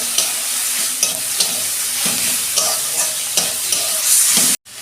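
Onions fry with salt in a pan, giving a steady loud sizzle with repeated scraping stirs on top, close by and with no talking, before it cuts off abruptly at the end.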